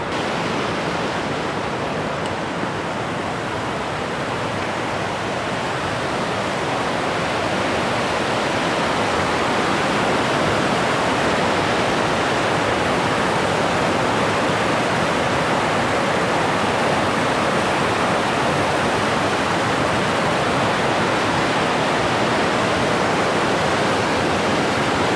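Multnomah Creek rushing beneath a trail bridge in winter, a steady loud broadband roar of flowing water that stays constant throughout with no voices.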